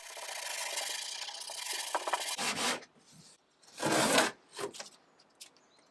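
Hand sanding a 1930s wooden sideboard during restoration, close rasping strokes that start as a steady stretch and turn into a few separate louder bursts with short pauses.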